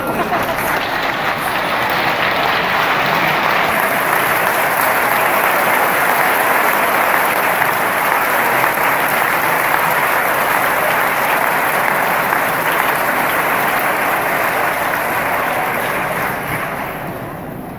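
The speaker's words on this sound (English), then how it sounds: "Give them a clap." A large audience at a class welcome event applauds the parents, loud dense clapping holding steady for about fifteen seconds before slowly tapering off, with faint cheering mixed in.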